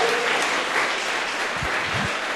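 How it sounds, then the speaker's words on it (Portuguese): An Easter Sunday church congregation applauds, a dense and continuous roar of clapping heard close and at a steady level for the whole short stretch. "Você pode aplaudir ele?"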